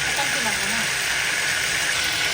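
Butter sizzling in a pan while tempering saag in a village kitchen, a steady broadband hiss that holds close and fairly loud for the whole stretch, with faint voices low underneath.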